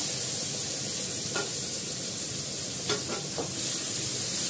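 Onions hit hot oil in a pan for a yogurt fish curry, producing a loud, steady hiss of frying with a few faint scrapes of stirring over it, close up and without speech.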